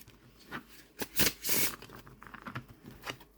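A linen-finish tarot deck is shuffled by hand in quick riffling bursts, with soft papery flutters and a louder sweep in the middle, close and alone without speech.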